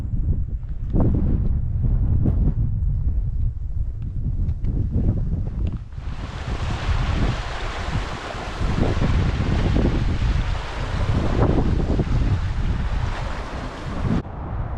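Strong wind roars across a winter mountain ridge, buffeting the microphone with constant low rumble and gusts that surge louder and more hissing about halfway through, then ease near the end.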